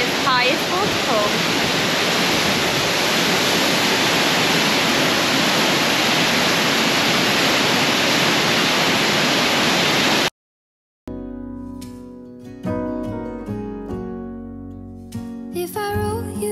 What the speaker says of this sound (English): Germany's highest waterfall.